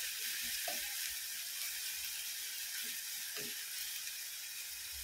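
Finely chopped curry leaves, ginger and garlic sautéing in hot oil, making a steady close hiss with occasional soft pops and stirring sounds throughout.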